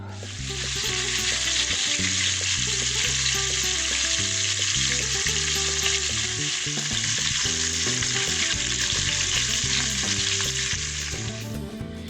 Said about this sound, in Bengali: কড়াইতে দিয়েছি সর্ষের তেল। এবার আমি কাঁকড়াগুলোকে ভেজে নিচ্ছি।